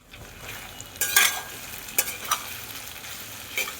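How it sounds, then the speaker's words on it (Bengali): Beef stirred with turmeric, ginger and garlic in a pan for beef khichuri, a low sizzle broken by a few sharp scrapes and clinks of the spoon against the pan, close by and without talk. "হলুদ আর আদা রসুন দিয়ে নাড়াচাড়া করার পরে"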